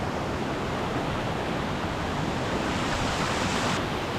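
Loud, steady rush of high water in Roaring Brook at Baxter State Park, a dense broadband roar that never lets up, heard up close with no voices over it.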